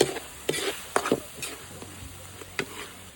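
Bell pepper and tomato paste being stirred in a sizzling frying pan, with several scraping strokes of a utensil against the pan over a soft, steady frying hiss.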